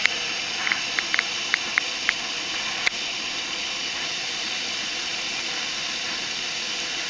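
A Jetboil camping stove burner hisses with a steady, loud jet-like roar while heating water by a lake, with a few small clicks and ticks in the first seconds.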